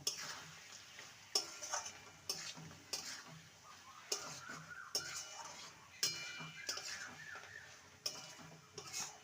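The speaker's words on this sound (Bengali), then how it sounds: "এবার ভালো করে মিশিয়ে নেব" Bottle gourd (lauki) curry stirred in a pot, with a spoon scraping and tapping the pot in regular strokes about once a second over a soft sizzle; no voice.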